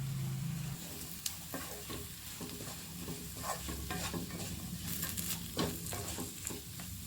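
Pre-cooked eggplant frying in a pan for vangi bath, a steady close sizzle broken by repeated scraping stirs of a spatula, with no talking.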